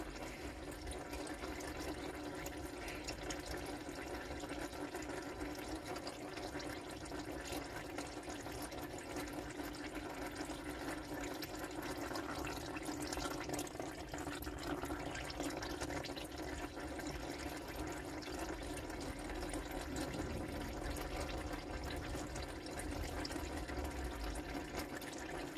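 Fluid drains steadily from a 1994 Mitsubishi Delica L400 2.8 diesel during a rear main seal job, a continuous low, even trickle of liquid that runs faintly and unbroken for the whole stretch with no talk over it.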